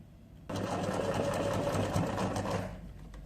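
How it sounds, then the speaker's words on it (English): A sewing machine runs a steady close whirring burst, back stitching along a bias-strip neckline, starting abruptly after a quiet moment and easing off at the end. "Don't forget to back stitch."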